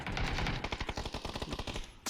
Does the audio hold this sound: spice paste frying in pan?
no